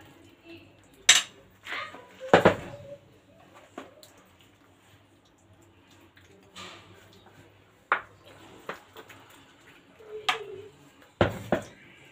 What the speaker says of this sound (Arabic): هنجيب بقى الصينيه اللي احنا حاطين فيها شويه بشاميل. هنزل بنص كميه المكرونه